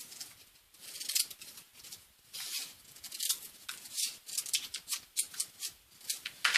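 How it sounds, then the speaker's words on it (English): Scissors snip through material for a Hayabusa helmet strip, a close series of crisp, irregular cuts with soft rustling between them, growing more frequent and louder toward the end, no voices. "So we can go ahead and cut out a strip right now."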